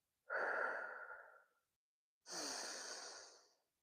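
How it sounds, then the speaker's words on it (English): Two slow, deep breaths during a guided meditation, an airy inhale followed by a longer exhale, close and soft in a quiet room with no talking. "take a deep breath with me, grand risings. And let's inhale that original design and exhale the program fog"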